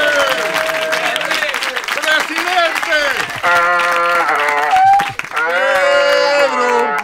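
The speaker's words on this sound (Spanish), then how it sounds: "Un aplauso para Pedro Lucha." Studio audience applause for Pedro on a Spanish comedy show, steady clapping running beneath loud overlapping voices shouting and cheering throughout.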